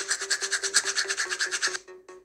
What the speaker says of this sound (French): T'as pas le temps de te brosser soigneusement les dents le matin?